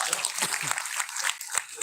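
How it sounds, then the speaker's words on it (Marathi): An audience at a Marathi poetry gathering claps in a steady burst of applause, a dense patter of many hands filling the hall. "तुमच्यासाठी सुद्धा टाळ्या वाजवा"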